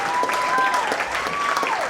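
Audience applause at the Fashion and Arts Humanity Fete 2014, a short burst of dense clapping from a crowd with some whistling tones threaded through it.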